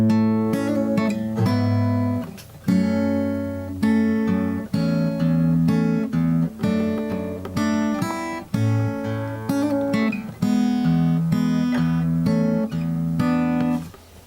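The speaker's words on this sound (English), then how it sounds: "I'm just playing the accompaniment here, and it sounds like this." Acoustic guitar accompaniment for a song's interlude, arranged for one guitar: steady fingerpicked chords and bass notes ring out close and clear, with a brief pause early on, played solo without voices.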